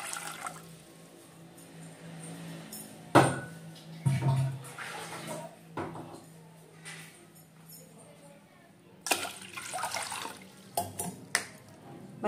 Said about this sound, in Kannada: ಈಗ ಈ ಪಾತ್ರೆಗೆ ನೀರನ್ನು ಹಾಕ್ಕೊತಾ ಇದ್ದೀನಿ